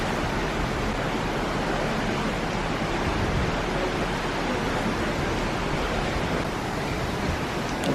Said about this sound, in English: There is a cool big waterfall.